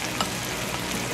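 Butter sizzling in a pan for garlic buttered shrimp gives a short, even hiss and crackle, close up and steady with no talk.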